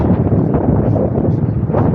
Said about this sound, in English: Yeah, it's windy a lot.